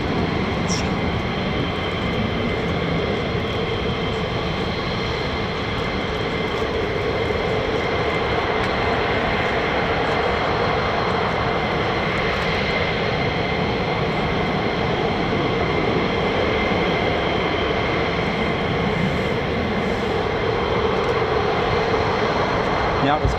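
F-15 and F-35 fighter jets at RAF Lakenheath, a broad sustained roar of jet engines that swells gently toward the end, steady and loud across the whole stretch without clear breaks.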